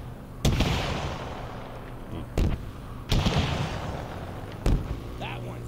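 Gunfire in the Xbox game Halo Infinite: four sharp, booming shots spaced a second or two apart, loud against a steady low rumble of game ambience.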